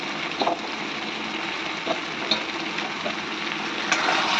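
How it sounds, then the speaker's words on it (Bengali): Raw fish frying in a pan of spices, a steady dense sizzle running throughout with a few small pops and crackles rising above it, close and moderately loud. "এবার আমি মাছগুলো ছেড়ে দেবো, কাঁচা মাছ"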